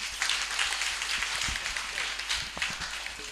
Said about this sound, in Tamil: அவருக்கு ஒரு கைத்தட்டல் கொடுத்துருவான் நம்ம.